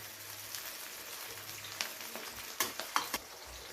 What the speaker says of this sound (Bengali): পেঁয়াজটা যখন এরকম হালকা করে ভাজা হয়ে যাবে